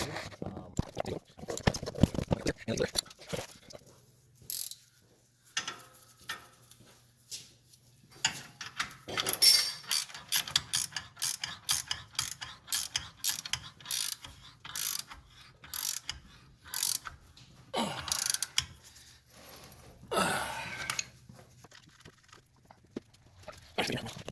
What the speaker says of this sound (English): I'm just going to be tightening up the nuts in the back.